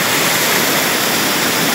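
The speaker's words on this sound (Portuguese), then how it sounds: "com esta fantástica cachoeira aqui no Riacho do Mel" Waterfall at Riacho do Mel in the rural zone of Olivença, Alagoas, Brazil, a steady dense roar of falling water close by, with no voices.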